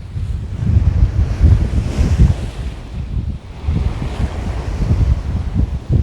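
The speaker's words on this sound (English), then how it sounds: "How does he keep the wind off the mic?" Strong wind buffets the microphone aboard a sailboat beating upwind in 25 knots, a loud continuous low roar with gusty surges and the wash of waves; no voices.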